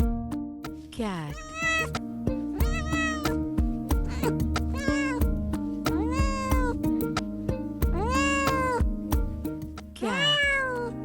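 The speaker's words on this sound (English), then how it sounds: "Cat." A cat meows again and again, about eight distinct rising and falling calls in a loose rhythm, heard clearly over a steady musical backing.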